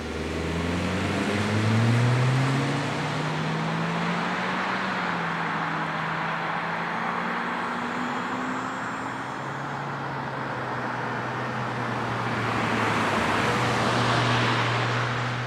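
2025 Acura ADX crossover on the road, with a steady low engine hum and road and wind noise that swells and eases as it cruises, continuous and fairly close with no talking.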